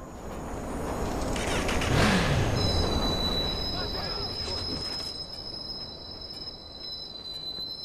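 A westbound train arrives in a video game: a rumbling passage swells around the middle, with high sustained wheel squeals and brake whines carrying on to the end, heard fairly near.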